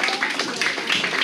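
Audience applause welcoming war veterans at a Portuguese talk with former colonial war combatants, a dense steady wash of many hands clapping throughout, fairly close and loud.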